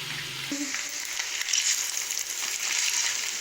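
Mushroom spaghetti ingredients with coriander and grated mozzarella being stirred together in a hot pan, a steady close sizzle and frying crackle running throughout with scraping stir sounds and no talking.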